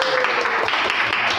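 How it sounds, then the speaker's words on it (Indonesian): A classroom of students claps together in dense, continuous applause, with voices mixed in beneath the clapping. "tepuk tangan untuk semuanya"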